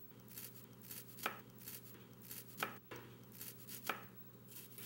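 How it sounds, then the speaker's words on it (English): A knife chops raw broccoli finely on a cutting board, sharp quiet taps in a slow irregular rhythm of about three clear strikes over a low steady hum, no talking. "Just cut it very small. Try to chop it as fine as you can."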